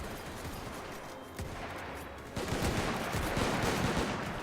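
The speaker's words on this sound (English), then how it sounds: "Our troops are opening fire." Musket volleys from massed troops in the Mount & Blade game crackle in dense, overlapping bursts of gunfire, loud and continuous, swelling heavier partway through.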